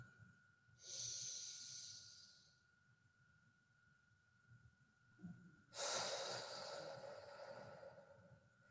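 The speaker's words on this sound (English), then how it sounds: "that breathing in through the nose for 4 counts, pausing, and then breathing out through the mouth for 4 counts, that deep breathing" Deep breathing at close range and fairly quiet: a slow inhale through the nose, a pause, then a longer and louder exhale through the mouth.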